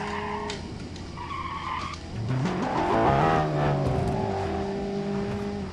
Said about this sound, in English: Chevy Bulleye drifts